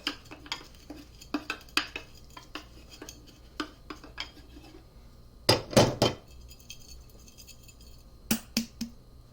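Irregular clicking and scraping of dry material being ground close by, with brief clinks against a hard container and a few louder rattling bursts.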